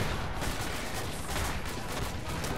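Gunfire in the Arma military video game in the United Operations Battle of Wanat scenario, with dense continuous fusillade and rumbling blasts close by, loud and unbroken throughout.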